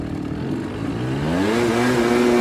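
A turbocharged BMW E36 engine revs up loudly and alone, its drone climbing in pitch and swelling midway before holding at a higher, strained whine.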